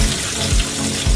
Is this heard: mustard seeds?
yes